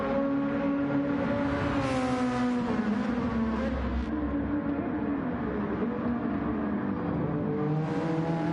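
A TCR touring car in Gran Turismo on a hot lap at the Nurburgring Sprint Circuit: a steady, loud engine drone that rises and falls through gear changes, heard alone with no talking.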